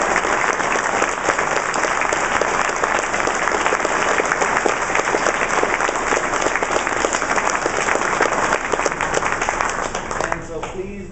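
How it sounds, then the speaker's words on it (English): At a high school choir and string orchestra concert, the audience gives sustained, even applause for choir students receiving certificates, a thick continuous patter that holds for about ten seconds before tapering off. "Would all of you who receive EDC certificates please stand and get your applause?"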